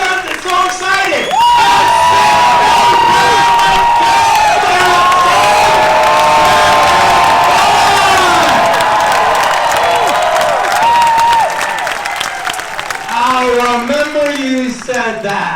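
A large cinema audience at a film screening cheering, whooping and applauding loudly and continuously, with shouts rising above the roar before it tapers near the end.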